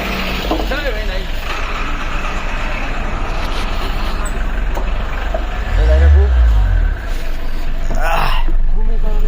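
A bus or car drives past on a foggy early-morning road, its loud, low engine rumble swelling midway through and then fading, with people talking over it throughout.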